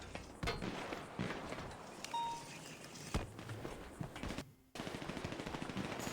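Rapid bursts of automatic gunfire in a video game, loud and close, with clustered shots and brief pauses, plus a short drop to near silence near the end before firing resumes.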